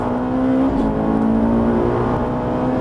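A Ferrari 458 Italia accelerates at full throttle on a race track, a loud steady engine howl rising in pitch with a quick gearshift midway, heard from inside the car.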